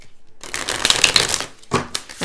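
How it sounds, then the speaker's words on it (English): A deck of playing cards gets a quick riffle shuffle, a close, crisp burst of fluttering card edges followed by a couple of short snaps as the deck settles. "Let me just give these cards a good shuffle before we get there."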